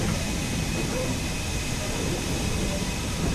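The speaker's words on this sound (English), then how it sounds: "Still got the cylinder drain cocks open." Steady hiss of steam venting from the open cylinder drain cocks of a steam locomotive in Train Sim World 5, a continuous broadband rush with a low rumble beneath, loud and unbroken throughout.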